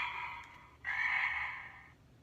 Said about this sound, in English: on each page is a little silver button with a sound. Here's a frog.